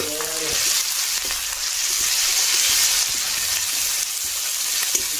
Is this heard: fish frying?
yes